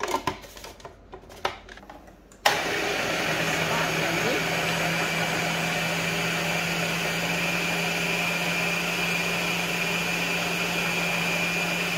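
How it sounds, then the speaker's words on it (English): An electric blender whirs into action on pineapple chunks after a few seconds of clatter, then holds a loud, even motor roar with a steady grinding hum to the end. "Now put the pineapple chunk into the blender."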